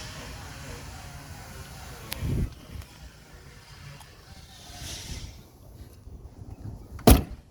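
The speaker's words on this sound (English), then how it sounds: "Door is shut really nice." A car door of a 1969 Ford Mustang Mach 1 thumps shut, then after a few quiet seconds of low background hiss a second sharper slam rings out close by.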